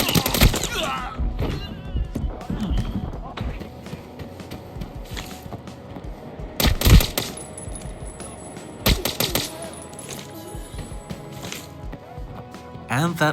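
Guns firing in the Arena Breakout video game, scattered sharp shots and short bursts with mechanical handling clicks, mixed under and between steady talk.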